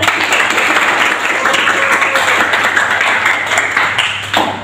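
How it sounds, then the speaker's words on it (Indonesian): A class of students claps steadily at a teacher's prompt for several seconds, a dense, continuous patter of hands that tapers slightly at the end. "tepuk tangan."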